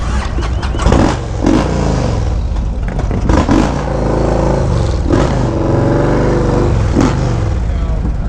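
Motorcycles idle and rev at a bike night ride-out, including a 117 cubic inch Harley Dyna, a loud, close, throbbing engine drone with repeated throttle blips and clatter, voices talking over it.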